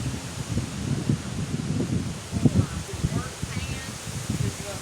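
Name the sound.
wind blowing during storm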